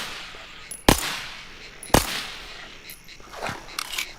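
Gunfire aimed at frogs in the video game S.T.A.L.K.E.R.: two sharp, loud shots about a second apart, then fainter, scattered cracks and rustling noise behind them.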